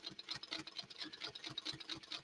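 Sewing machine stitching curves on a quilt, taking small stitches in a quick, steady run of needle beats, close and fairly quiet with no talk.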